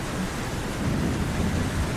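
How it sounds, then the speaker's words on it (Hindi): Thunderstorm with heavy rain: a steady roar of rain with low rumbling thunder swelling underneath, continuous and fairly loud throughout. "देखते ही देखते तूफान के साथ साथ तेज बारिश शुरू हो जाती है"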